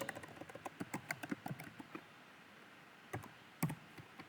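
Light keyboard clicks from typing C code on a computer, a quick uneven run of taps, then a pause before a few scattered keystrokes, fairly close and with no voice.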